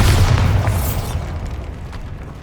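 A loud booming blast from the Bombarda blasting spell in Hogwarts Legacy, with a heavy low burst at the start that rumbles and slowly fades over a couple of seconds.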